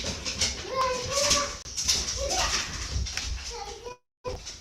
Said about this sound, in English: I have a kid running around with dogs down in the open area